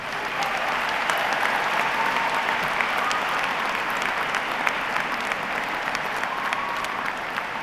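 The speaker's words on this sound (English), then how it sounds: "Let's have a round of applause for them." Sustained audience applause at a university graduate commencement ceremony, honoring graduates who enlisted in the armed forces; dense, steady clapping from a large crowd fills the whole stretch with no speech over it.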